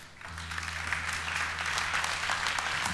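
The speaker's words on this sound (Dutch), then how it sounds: "een hartelijk applaus voor Reboot Life" A crowd applauds steadily for a few seconds, dense clapping with a low electronic hum running underneath.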